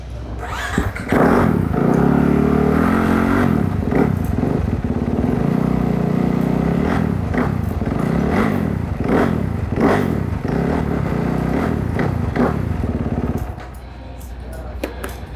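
Supercross motorcycle engine revving loudly and continuously up close, with repeated throttle blips and rising, falling pitch before dropping to a quieter idle near the end.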